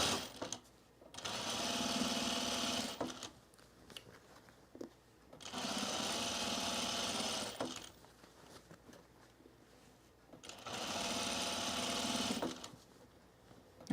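A sewing machine stitches summer pants with gray thread in three sustained whirring runs, each a few seconds long, broken by short quiet pauses, loud and close with no talking.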